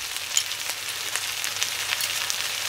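Garlic sizzling steadily in a hot frying pan for stir-fried noodles with prawns and black mushrooms, a continuous bright crackle with small pops, close and alone.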